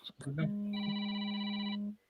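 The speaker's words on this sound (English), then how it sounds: "Oh, that's Kale's phone." A mobile phone rings once with a bright, steady electronic tone lasting over a second, close and clear, following a brief burst of speech at the start.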